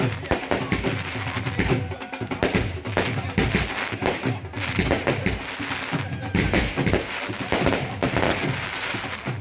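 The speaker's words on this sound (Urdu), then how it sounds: "ہر روز رات کو شاندار آتش بازی کا اہتمام کیا گیا" A nightly wedding-celebration fireworks display in Walsall bursts with repeated thumps, booms and crackles, dense and loud throughout with little pause.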